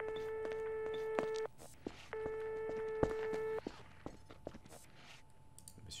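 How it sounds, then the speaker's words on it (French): A phone busy tone plays while making a call in the video game Garry's Mod DarkRP, two steady beeps each about a second and a half long, separated by a pause, with faint footsteps and clicks around them. "On va appeler Nino direct."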